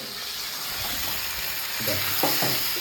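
Spices with turmeric, salt, cumin powder, tomato and chili powder frying in a pan for a thin katla fish curry, giving a loud continuous sizzle with spatula scrapes and stirs rising toward the end.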